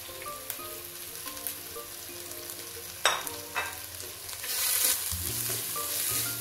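Chicken with chilli, salt, black pepper and green chilli goes into a pan, setting off a steady sizzle and frying hiss, with a couple of sharp clatters and stirring in between and a louder surge of frying near the end.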